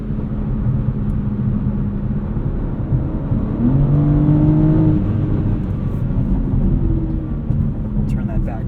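A 2023 BMW M3 Competition xDrive Edition 50 Jahre cruises with its exhaust set to quiet mode, giving a muted, steady engine drone and road roar with a brief rising pitch midway.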